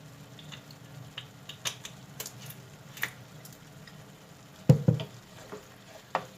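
Spinach in oil is stirred in a pan, giving a faint low sizzle with scattered light scrapes and clicks and a couple of louder knocks near the end.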